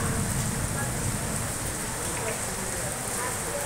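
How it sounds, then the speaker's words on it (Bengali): Heavy monsoon rain pours onto a second-floor balcony, a dense, steady, loud hiss and patter with no pauses and no voices. "সেই ঝমঝম করেই বৃষ্টি হচ্ছে"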